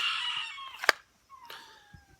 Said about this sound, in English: These chickens, I'm telling you.